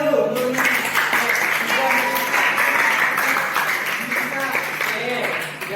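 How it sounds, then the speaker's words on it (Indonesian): A classroom of students clapping together for a classmate, brisk continuous applause filling the room close by, with some voices mixed in underneath. "kasih tepuk tangan dulu"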